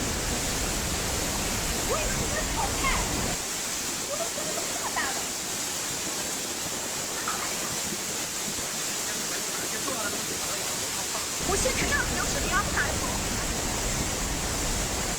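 Heavy rain pours down in a dense, steady hiss during a typhoon in Shanghai, with water splashing through flooded streets and a deeper rumbling wash rising and falling over about fifteen seconds.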